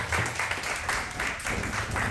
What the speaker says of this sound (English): So we can give a round of applause to Heat Transfer Warehouse and our team there.